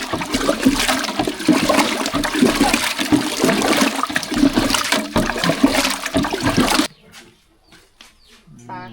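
Crushed jaggery being stirred and dissolved into water for panakam, a loud continuous churning, sloshing wash that runs steadily for about seven seconds and then cuts off to quiet with faint trickles.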